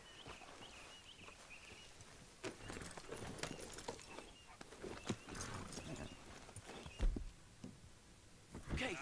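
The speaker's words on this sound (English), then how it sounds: "Grab your horse and let's go." Hoofbeats of a horse being ridden in Red Dead Redemption 2 clop in an irregular, close rhythm, with a brief whinny and soft outdoor ambience, fairly quiet overall.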